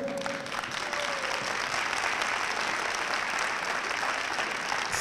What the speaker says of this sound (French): Allez, on les applaudit encore un petit peu.